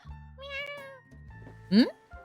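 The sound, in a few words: cat meowing in a video game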